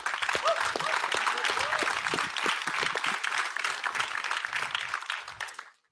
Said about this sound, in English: Let's give him some applause and get him pumped up to come up here.